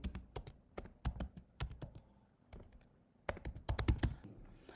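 Typing of an article topic on a computer keyboard: rapid, close clusters of key clacks in uneven bursts, with a short pause partway through, and no voices.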